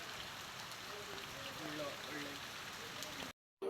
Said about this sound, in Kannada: ಇದು ರಾತ್ರಿ 8 ಗಂಟೆಗೆ ಬಂದಿರುವಂತಹ ಮಳೆ. ನೋಡಿ ಎಷ್ಟು ಚಂದ ಮಳೆ.